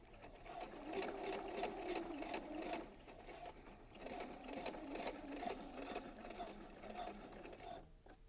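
A sewing machine stitches across the back vent of a skirt, running with a steady rapid mechanical whir and rhythmic needle clatter for most of the clip, close and clear, easing off briefly midway before resuming.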